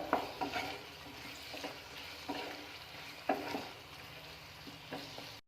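Onion and capsicum sautéing in a pan for chilli chicken gravy, stirred with a few clattering scrapes against the pan over a steady low sizzle, close and moderately loud, with no talk.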